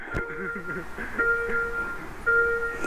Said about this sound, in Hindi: पार्किंग सेंसर्स भी है बहुत तेज हो रहा है